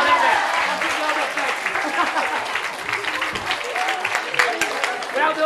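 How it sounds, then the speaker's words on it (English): A crowd applauds with dense, steady clapping that fills the space for several seconds, loud and sustained without fading. "Give the lady a round of applause."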